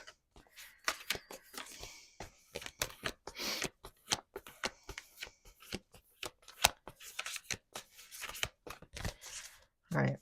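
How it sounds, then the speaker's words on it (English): Tarot cards shuffled by hand in a run of quick riffling and flicking bursts, close and fairly quiet, continuing steadily through the clip without talk. "I just gotta shuffle one more time."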